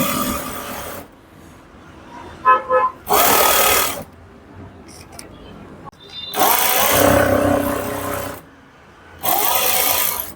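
Sewing machine stitching a seam on a pair of pants, running in loud bursts of a few seconds with quiet pauses between them, and some faint handling noise in the gaps.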